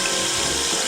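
Hot water gushes steadily from a tap into a sink, a loud, close, continuous rush of running water with no voices.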